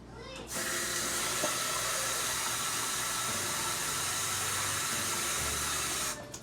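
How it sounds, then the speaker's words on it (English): Water runs steadily from a tap into a cooking pot for beef stew, a constant hissing rush that starts abruptly and stops after about six seconds. "I'm going to actually fill this up with water."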